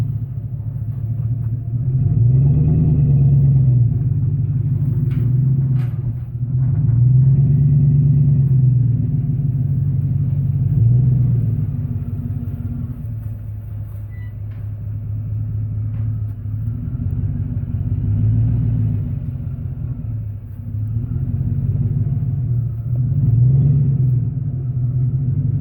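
A truck engine rumbles low and steady nearby while it repositions a trailer at a building site, swelling and easing in slow surges over the whole stretch, with no talk.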